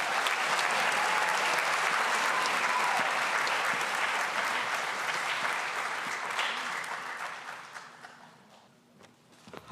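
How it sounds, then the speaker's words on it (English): An audience at an awards ceremony breaks into sustained applause, dense and loud at first, then thinning out and fading to scattered claps. "let's get him a STEMtastical hand of applause"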